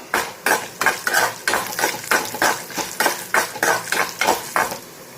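Masala with dry red chillies, coriander seeds, pepper and cumin frying in a pan, stirred with a metal spoon in quick repeated scrapes and clinks over a low sizzle, close and fairly loud, no talking.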